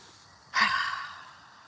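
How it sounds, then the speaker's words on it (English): A single big, breathy sniff of cinnamon basil leaves, one sharp close-up inhale that trails off over about a second. "Smell it. Take a big sniff."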